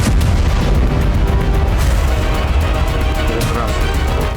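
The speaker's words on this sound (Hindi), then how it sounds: "पता चला बेलबेक एयरफील्ड पर भी धमाके हो रहे हैं" Continuous heavy rumbling with repeated booming blasts at Belbek airfield during a wartime attack, loud and close, like a barrage of explosions with no voices.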